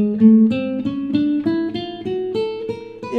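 A beginner guitar finger exercise plucked with alternating index and middle fingers, a clear sequence of single notes at an even pulse, about three per second, each ringing briefly, close and alone.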